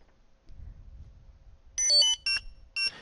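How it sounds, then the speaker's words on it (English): Quiet low rumbling, then three short bursts of bright electronic beeping in quick succession, sharp tonal chirps close to a Bluetooth barcode scanner reading barcodes. "you'll hear the scanner make a ton of beeping sounds"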